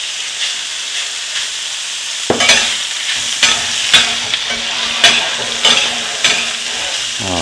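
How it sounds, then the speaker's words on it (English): Taco meat hitting a hot pan bursts into a loud, close sizzle that continues steadily, with a hiss of oil before it and periodic scraping and spatula knocks as the meat is spread out. "Let's get some meat down in here."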